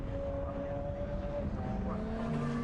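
GT race cars, an Audi, a Porsche and an Alpina, racing through Beckett's at Silverstone in an endurance event, a steady droning engine roar with shifting tones as the cars pass at a distance.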